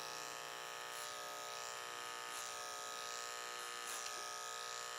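An electric hair clipper hums steadily at close range while cutting hair for a classic pompadour, with a few soft swells as it passes through the hair.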